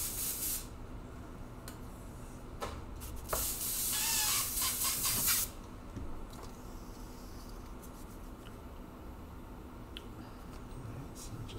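Black paint hisses from an airbrush over a stencil in a short steady burst of a couple of seconds, with faint softer puffs before and after against a quiet room background.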